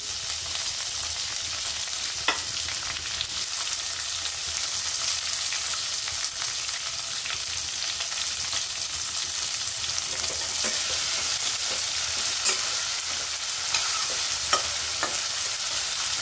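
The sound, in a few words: garlic and tomato sautéing in a pan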